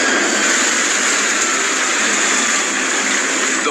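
Helicopter engine failing during a rescue approach over a raft, heard as a loud, steady broadband roar of rushing turbine noise that holds without a break throughout.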